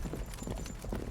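Horse hooves clip-clop in a steady, quick rhythm in the strategy video game Immortal Realms: Vampire Wars, a moderately loud stream of game sound effects with no voices.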